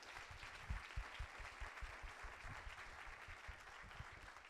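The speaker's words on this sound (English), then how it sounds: "So please give them applause for this wonderful." Audience applause after a panel conversation, a faint, distant wash of many hands clapping that holds steady throughout.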